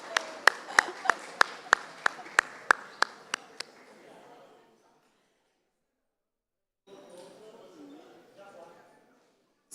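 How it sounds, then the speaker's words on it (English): Scattered audience clapping at an ocean literacy conference, about a dozen sharp, distinct claps in a quick run that tapers off into a pause before quiet room sound returns. "So a round of applause to him as well."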